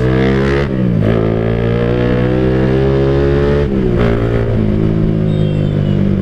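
A loud, close engine drones steadily with gear shifts and revving swells, motorbikes moving through Jakarta city traffic, with no voices.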